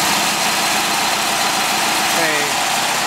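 A car engine that has cooled down idles steadily after an exhaust leak repair and an added baffle. It gives a loud, continuous rumble and hum throughout, with a faint tonal waver near the end.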